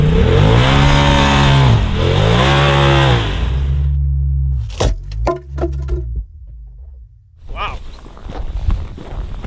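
A Polaris RZR side-by-side engine roars loudly in the desert while pulling on a rope, rising and falling twice before cutting off. Then come clattering knocks and shuffling, a brief rev, and voices nearby.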